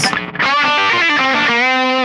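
A loud, heavily distorted electric guitar plays a short lick, a quick attack leading into sustained, ringing bent notes.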